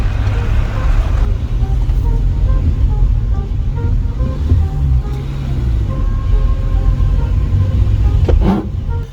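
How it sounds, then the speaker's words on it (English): VW Polo R Line car with a worn clutch on a first test drive down a street, its steady engine rumble and road noise loud and continuous throughout as it runs through the gears. "That's all I'm doing, is just driving it down the street just to make sure that it goes through the gears alright."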